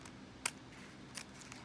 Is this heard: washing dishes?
no